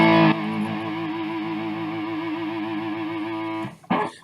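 An electric guitar through heavy distortion holds a sustained chord while the whammy bar wavers the pitch up and down, loud and alone, then cuts off with a short scrape of noise near the end.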